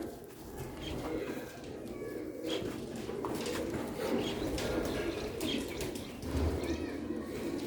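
Pigeons cooing steadily at a bird keeper's loft, with low cooing calls and occasional wing flaps over constant background noise.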